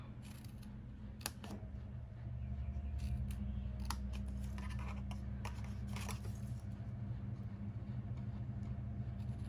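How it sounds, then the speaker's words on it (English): Scissors snip a small wedge out of paper while a gift box is made, a few crisp cuts over a low steady hum, close and fairly quiet. "out of the little square that we're cutting away, we're just going to cut a little wedge"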